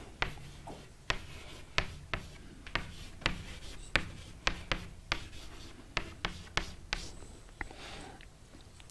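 Chalk on a board during a physics lecture, a run of quick tapping strokes and scratchy scrawls at a steady pace, fairly faint in a quiet room with no talk.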